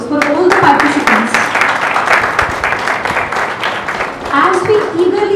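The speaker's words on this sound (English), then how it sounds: "Please have a big round of applause for all the participants." An audience at an inter-school science exhibition applauds the participants, a steady wash of clapping that runs throughout, with voices mixed in and swelling again near the end.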